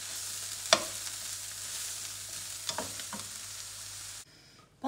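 Cabbage and mushrooms frying in a pan, a steady close sizzle with a few sharp stirring clinks, then the sound drops away near the end.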